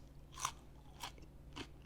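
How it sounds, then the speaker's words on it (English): Someone bites into a raw cucumber three times, each bite a short, close, quiet crunch separated by brief pauses, with no talking. "I'm eating a cucumber right now"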